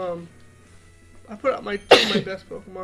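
A single sharp sneeze bursts out near the end of a short stretch of casual talk during a Pokemon Ruby and Sapphire randomized Nuzlocke game session.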